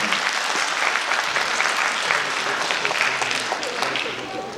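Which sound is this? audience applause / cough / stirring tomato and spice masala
audience applause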